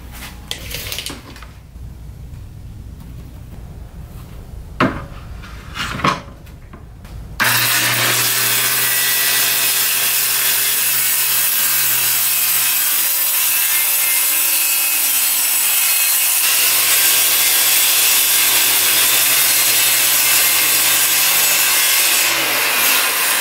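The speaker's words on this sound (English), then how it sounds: "let's see if it cuts a good straight 8 inch all the way across this 4 foot length" A saw guided by a Kreg Accu-Cut track cutting straight across a 4-foot wood board. A few faint knocks come first, then a loud, steady power-saw whine and cutting rasp continues to the end.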